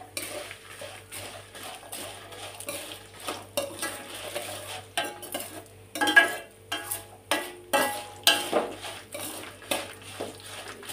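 Five or six garlic cloves frying in a pan are stirred with a metal utensil. Rhythmic scraping and clinking strokes repeat over a quiet, steady sizzle, without voices.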